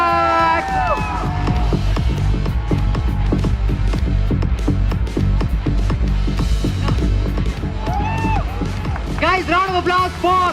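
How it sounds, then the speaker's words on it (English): A lively crowd at a cosplay contest prize announcement claps and cheers with whoops and shouts, loud and continuous throughout, with voices calling out over the applause. "round of applause for Riju!"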